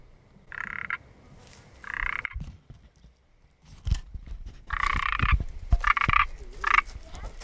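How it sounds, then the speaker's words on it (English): A Pacific tree frog croaks in several loud, raspy bursts, some doubled, close by, with rustling and light thumps between calls. "Okay, so I just heard a frog. Sounded like a Pacific tree frog."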